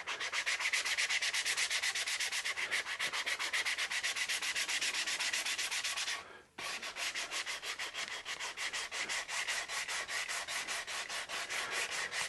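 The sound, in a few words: sanding a guitar for finish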